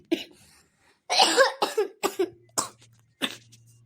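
A person coughs in a rough fit, several harsh hacking bursts in a row with short gaps, close up and fairly loud.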